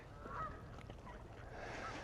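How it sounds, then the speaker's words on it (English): Geese honk nearby while being fed outdoors, a few soft nasal honks over low rumbling background noise. "Fuck yeah, I'm feeding geese."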